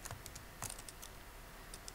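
Code being typed on a computer keyboard, quick close clicks in short irregular bursts, quiet and without speech.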